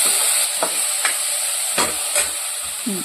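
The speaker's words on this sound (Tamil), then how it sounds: "உப்பு போட்டு நல்லா வதக்கிக்கலாம்." Bottle gourd sautéing with salt in a pan, giving a steady sizzling hiss broken by several short scraping stirs, close and alone with no voices.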